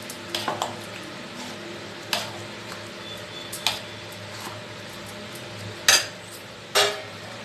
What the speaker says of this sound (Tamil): கொட்டிட்டு இதை கலந்துருங்க நல்லா.